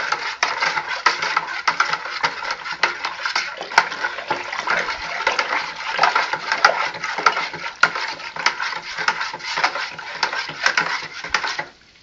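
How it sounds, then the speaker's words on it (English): Continuous scraping and gritty swirling of sugar granules against a container bottom as liquid for homemade hard cider is stirred, close and steady for several seconds before stopping. "I'm going to kind of keep stirring this until I don't really hear any more sugar on the bottom."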